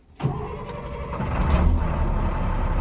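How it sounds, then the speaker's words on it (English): A school bus engine cranks and catches after a brief starter whir, then settles into a steady, rough idle that stays loud and close to the end. "I'm going to start the engine."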